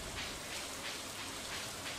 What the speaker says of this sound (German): Das ist einfach nur ein Regenschauer.